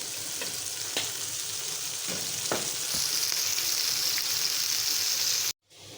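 Stuffed bitter gourds filled with onion fry in a pan with a steady close sizzle, broken by a few soft clicks and scrapes, before a brief cutoff near the end.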